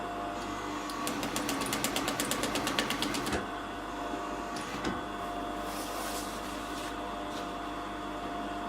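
Industrial sewing machine stitching fabric, a fast run of even needle strokes for a few seconds before it slows and stops, followed by a few isolated clicks and light handling noises in a quiet room.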